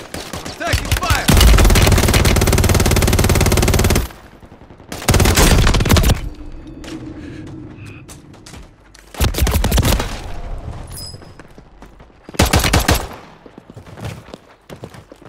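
Gunfire in the Warzone video game: long, dense bursts of automatic fire come in several separate volleys with quieter gaps between them, loud and close, with no talking heard.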